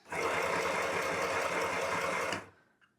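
A VICTOOL 520PLUS sewing machine runs flat out at full speed with no speed control, a loud steady rapid mechanical whir lasting over two seconds before stopping abruptly.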